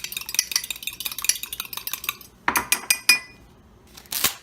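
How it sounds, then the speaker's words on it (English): Wire whisk beating egg whites in a measuring cup, a quick run of light metallic taps and scrapes for about two seconds, then a few louder sharp clinks and one last burst of clatter, close and clear with no talk. "Just go ahead and whisk this really quickly"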